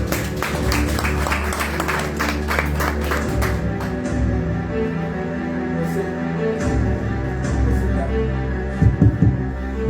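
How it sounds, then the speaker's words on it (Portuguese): A church congregation claps along in a dense, rhythmic patter over a humming organ-like drone; the clapping fades after a few seconds, leaving the sustained tones with scattered later claps. "Bate o palmas para ele, bem alegre."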